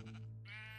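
A single short bleat from a sheep in the video game Minecraft, a brief, clear, quiet synthetic baa heard alone.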